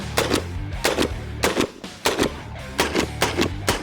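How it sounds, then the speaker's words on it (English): A USAS-12 shotgun fitted with a drum magazine fires in quick bursts of two or three loud, close booming shots, each group separated by brief pauses, with a low rumble between them. "this is actually my first time ever shooting a USAS-12"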